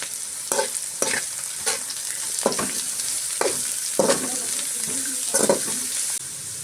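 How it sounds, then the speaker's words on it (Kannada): Beans, carrot and cabbage stir-fried for veg fried rice, a steady sizzle with repeated scraping strokes of a spatula through the pan at an uneven rhythm. "ಕ್ಯಾಬೇಜ್ ಹಾಕ್ಕೊಂಡು ಇದನ್ನು ಚೆನ್ನಾಗಿ ಫ್ರೈ ಮಾಡ್ಕೊಳ್ಳೋಣ."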